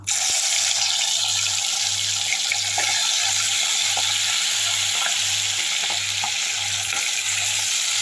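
Chicken pieces for a restaurant-style Hyderabad Majestic chicken deep frying in oil give a loud, steady, dense sizzle that fills the whole stretch, with a low rhythmic hum pulsing underneath and no voices.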